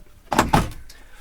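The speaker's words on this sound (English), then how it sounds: "If I want more separation, we'll simply close these doors." Recording studio doors swing shut in two quick, loud thuds close together, followed by a faint click, with no talking.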